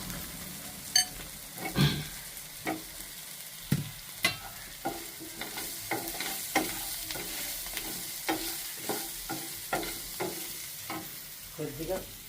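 Drumstick pieces fry in a pan while a spoon stirs them, giving a soft sizzle under a regular series of scraping clacks, quiet and close, with no talk.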